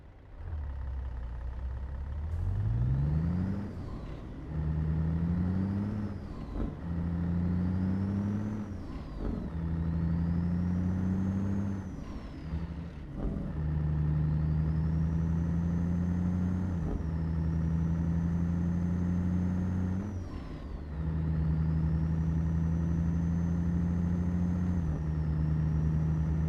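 A Peterbilt 389 truck with a Caterpillar engine sound mod in a trucking video game pulls away through a run of gear shifts, each one a deep droning climb in revs, followed by a sharp break before the next gear, loud and close.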